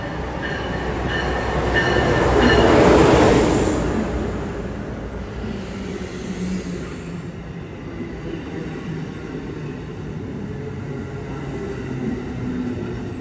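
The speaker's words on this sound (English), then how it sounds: "Here comes our train. This is the Excella train." A fast Amtrak Acela high-speed passenger train rushes into a station, its roar swelling to a peak within a few seconds, then settling into a steady rumble of rolling cars as it slows.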